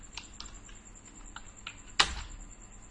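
A few soft computer keyboard keystrokes while typing a word in MS Word, sparse and quiet, ending in one louder key press, close with faint background hum.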